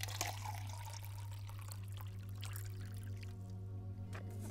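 Superberry coconut water poured into a glass, a soft trickling splash over a low steady hum, faint and close, with no talking.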